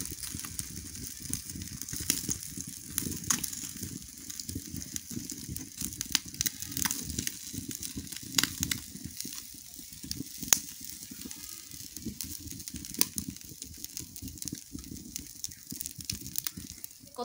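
Chicken kala bhuna frying in oil gives a steady crackling sizzle, with dense broadband spitting and a low rumble running through the whole stretch and no voices.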